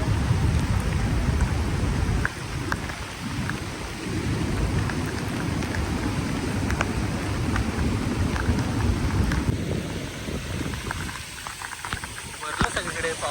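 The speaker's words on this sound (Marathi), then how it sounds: "मस्त भिजतोय पावसामध्ये." Heavy monsoon rain pours at the seashore with rumbling thunder, a dense, loud, continuous wash of rain noise with low booming beneath and voices talking over it.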